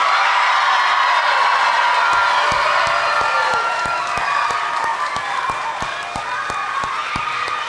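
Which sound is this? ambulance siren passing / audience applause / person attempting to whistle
audience applause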